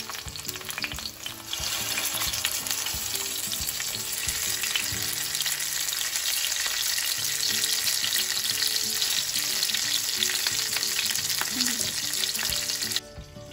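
Potatoes and stuffed okra with brinjal frying over medium heat in a wide pan, a loud continuous crackling sizzle that holds steady throughout and cuts off abruptly at the end.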